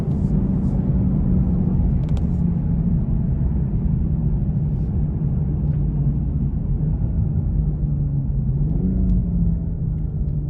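A 2020 BMW 840xi M Sport Gran Coupe driving in Sport Plus mode, its engine a steady loud low rumble from inside the cabin, with a brief pitch shift near the end as it downshifts, and no voices.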